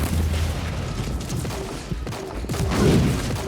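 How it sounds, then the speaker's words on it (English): Mortar bombardment in the video game Warhammer 40k Inquisitor Martyr, a dense rumbling barrage of booms and thuds rolling continuously, loud and close, with a heavier surge of impacts near the end and no talking over it. "there's the second wave of mortar bombardment"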